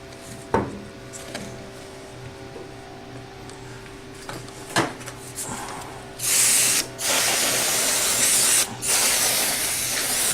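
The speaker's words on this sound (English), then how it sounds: "And it's just some canned air." Several sharp hissing bursts of spray from a can of compressed air, the last few long and loud, following a few quieter clicks and taps over a low steady hum.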